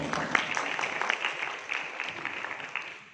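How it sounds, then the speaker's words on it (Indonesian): An audience at a youth-focused human rights session claps steadily, a dense patter of many hands filling the room at moderate volume, with some voices mixed in beneath. "Tepuk tangan buat teman-teman"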